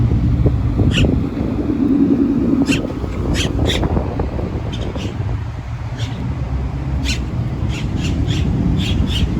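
Birds squawk harshly again and again in short bursts, scattered through steady low traffic rumble outdoors.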